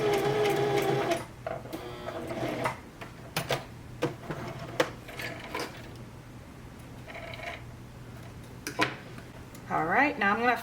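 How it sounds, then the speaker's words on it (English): A sewing machine stitches fabric for an owl stuffy in short, quick bursts separated by pauses, close and clear, while someone talks between and over the runs. "You're just like guiding the fabric to be able to sew all around it."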